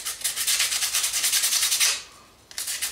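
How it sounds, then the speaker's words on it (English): A foam weapon tip gets roughened with quick, rhythmic back-and-forth rubbing strokes, close and fairly loud, that pause briefly near the end before starting again. "let's roughen up the tip of this some more."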